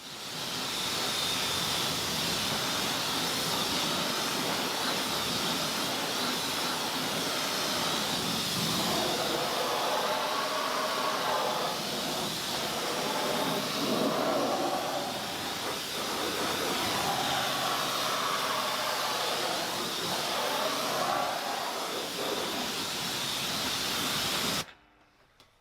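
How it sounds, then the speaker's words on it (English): A pressure washer rinses the wheels of a new car, a loud, continuous hissing spray that holds steady for about twenty-five seconds before cutting off abruptly. "before thoroughly pre-rinsing them off with the pressure washer in preparation"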